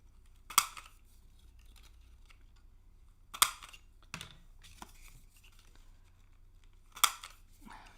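Scissors snip through paper pieces in three sharp, fairly loud cuts spaced a few seconds apart, with a few softer rustles and clicks of handling in between and no talking.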